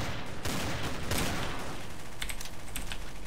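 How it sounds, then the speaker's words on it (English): Rapid gunfire crackles through a round of the video game Trouble in Terrorist Town as a dense, noisy barrage that runs the whole clip. Sharper bursts stand out near the end, and nobody talks. "Whoa, who's shooting?"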